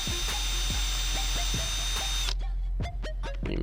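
Close power drill boring through plastic on a Jeep Wrangler JK Unlimited, a sustained motor whine that stops partway, followed by a few sharp clicks and taps with no speech.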